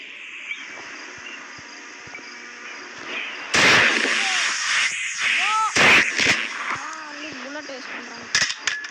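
Shotgun fire in the horror game Granny Chapter Two, heard as several sharp, loud blasts spaced a second or two apart, mixed with a person talking and other game sounds.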